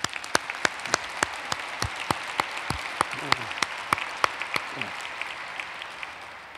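Applause ringing out at a global leadership dinner in honor of chairman Ted Turner, a steady wash of many hands clapping with a few sharp, distinct claps standing out, fairly distant and sustained throughout.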